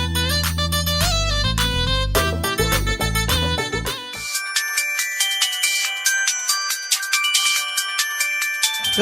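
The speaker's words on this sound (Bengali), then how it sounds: "এই ফোন দি বাজতে আছে" A phone ringtone plays loudly, a bright electronic melody with a bass line that drops out halfway, leaving a repeating high tune.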